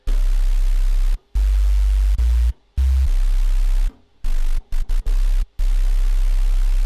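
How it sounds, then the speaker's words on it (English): A synthesized low subtone with white noise layered over it plays as a loud, steady hiss and rumble, cut by several abrupt silent gaps of varying length. "It's just a subtone with white noise layered over it."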